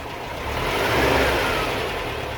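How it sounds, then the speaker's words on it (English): A Volkswagen Type 4 engine with IDF carburetors revving up, a broad continuous roar that swells toward the middle and eases slightly, close and fairly loud with no talking. "See, now the RPMs are climbing."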